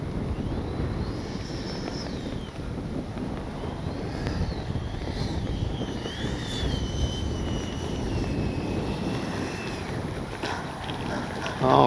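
An 80mm FMS F-86 Sabre RC jet coming in to land with gear down, landing flaps and full speed brake, its high whining ducted-fan tone sweeping and fading against steady wind noise on the field.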